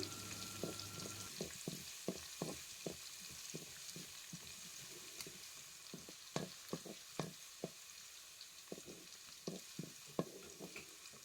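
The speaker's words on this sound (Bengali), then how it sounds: "এবার পেঁয়াজ দিয়ে কিছুক্ষণ নেড়ে চেড়ে নিচ্ছি।" Onions frying in a pan with a steady soft sizzle, punctuated by a rhythmic series of spatula scrapes and stirs, quiet and without talk.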